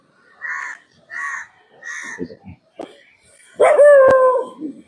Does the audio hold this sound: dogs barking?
yes